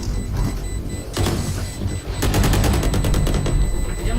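Gunfire in a deathmatch video game: scattered shots early on, then a dense burst of rapid automatic fire from about two seconds to the end, loud and continuous over a busy game mix.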